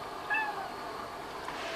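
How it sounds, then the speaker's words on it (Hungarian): A small cat meows once, a thin high cry rising over a quiet room hiss, fairly close and not loud, with no one talking. "Szegény kis macska segítségre szorul"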